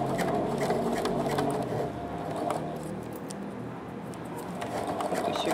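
A sewing machine hums steadily while stitching over the thick, bumpy hem of a pair of jeans, with a clearance plate under the foot, close up and continuous with small clicks throughout.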